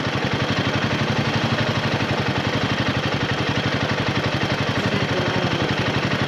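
A Royal Enfield Himalayan 450 motorcycle climbs a hill under steady throttle, its engine a loud, continuous, close thumping drone with a rapid regular pulse and wind rush throughout, no voices.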